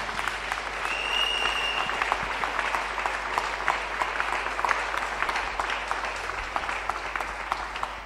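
A church congregation at a fasting and prayer service applauds to acclaim the Lord, with sustained, dense clapping that continues steadily throughout.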